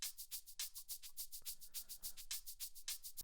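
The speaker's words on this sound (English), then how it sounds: "Altogether, it sounds like this for the hi-hats and shakers." Programmed hi-hats and shakers in an R&B beat tick in a fast, even rhythm of crisp bright hits, with no other instruments or voices.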